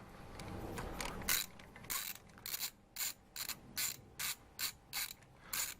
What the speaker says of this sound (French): Donc, je dévisse tout ça. J'enlève le cliquet, ça ira plus vite.